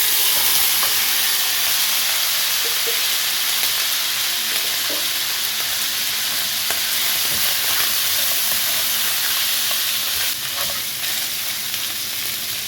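Beef meat frying with whole spices in a pot for Swahili beef biryani: a loud, steady sizzle and hiss throughout, with occasional light stirring clinks and scrapes.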